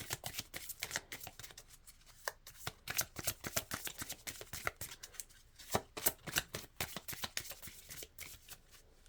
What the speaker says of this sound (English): Sometimes it's uncomfortable shuffling them like in front of the camera.